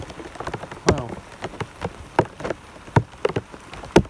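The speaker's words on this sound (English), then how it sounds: "it's absolutely thundering down with rain" Rain during a morning thunderstorm outdoors, with lightning about: close, irregular pattering drops that strike a surface and tap loudly, one after another, over a soft wash of background rain.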